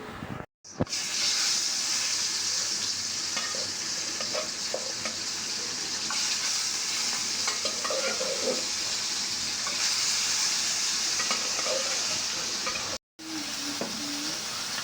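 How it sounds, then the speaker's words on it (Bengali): Dried fish with water spinach frying in a pan gives a steady, close sizzle and hiss with occasional stirring scrapes, running almost continuously apart from two brief dropouts. "আর এই যে শুটকিটা, কলমি শাক শুটকি, এটাও হয়ে গেছে, এখন নামাই ফেলবো।"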